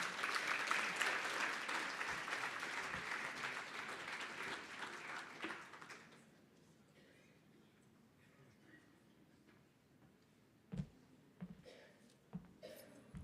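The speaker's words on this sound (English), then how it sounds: "Can we give another round of applause for her, please?" Audience applause at a conference fills the room for about six seconds, steady and moderately loud, then fades into quiet room tone with a few isolated bumps and claps.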